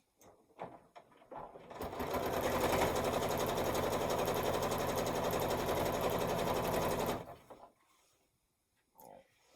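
A sewing machine stitches one more row on a quilt-as-you-go quilt, running in a steady, dense whir for about five seconds between brief quieter handling noises at the start and end.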